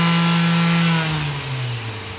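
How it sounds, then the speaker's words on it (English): An orbital sander running with its attached vacuum: a steady motor drone with a vacuum-like whir, holding a constant hum that dips slightly in pitch partway through, with no talking. "When I start this, you'll hear the vacuum come on."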